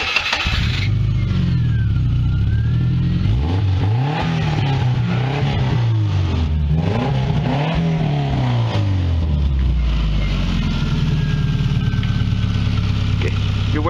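A car engine revs repeatedly up and down at close range, its rising and falling tones rolling over a loud idle, with a voice briefly heard amid the noise.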